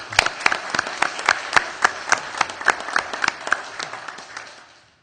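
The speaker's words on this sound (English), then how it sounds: "let's give them a round of applause as they join our group" Applause at a city council meeting, with sharp, distinct claps standing out in a loose rhythm, fading toward the end, from a modest group.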